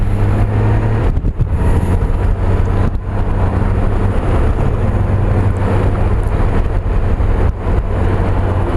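A Honda Goldwing motorcycle rides along a road, its steady low engine drone and road rumble mixed with strong buffeting wind noise on the microphone, loud and continuous throughout.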